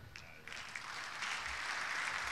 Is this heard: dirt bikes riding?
no